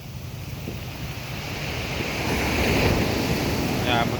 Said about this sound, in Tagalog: Talagang lalaki ng alo, no?